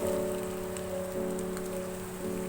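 Square-cut onion pieces frying with green chillies in a pan over a low flame give a steady, even sizzle that carries on without a break, with no talking.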